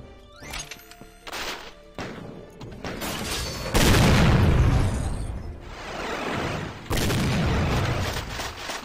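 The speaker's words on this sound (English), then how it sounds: "Let me see if the power of skipping everything with the quad-barreled shotgun will help." Quad-barreled shotgun in the video game Doom, firing repeatedly: a series of loud, heavy booming blasts in close succession, with broad crashing bursts that ring out between shots.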